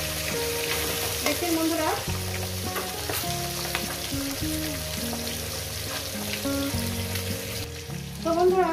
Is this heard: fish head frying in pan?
yes